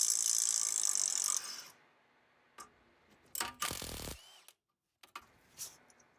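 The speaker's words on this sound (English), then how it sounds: "Next, I remove the nuts that support the knuckle to the strut." Ratchet wrench loosening the knuckle-to-strut nuts on a Jeep Patriot during a front wheel bearing replacement, with a sustained burst of rapid clicking followed by a few shorter, sharper mechanical clicks and pauses, close and fairly quiet.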